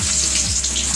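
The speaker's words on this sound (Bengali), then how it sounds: "কাঁকরোলগুলো হালকা ভাজা ভাজা হয়ে আসলে এগুলো উঠিয়ে নেবেন।" Teasel gourd pieces frying in oil in a pan make a brief, bright, continuous hissing sizzle, close and fairly loud, with no voices.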